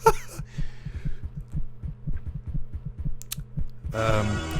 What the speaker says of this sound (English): I know that's a sound effect, that heartbeat